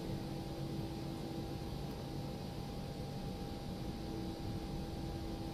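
Simulated Airbus A321 taxiing in X-Plane 11, a steady, even whine of jet engines and cabin air with a faint tonal hum, continuous and unchanging throughout.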